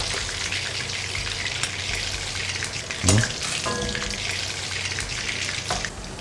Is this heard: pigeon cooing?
no